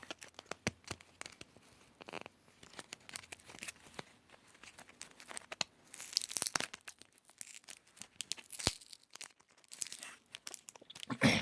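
Packaging tape being peeled and torn off a parcel of Drosera plants, with close ripping, crinkling and crunching noises in irregular bursts that grow louder and busier toward the end.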